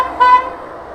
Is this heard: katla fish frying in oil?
no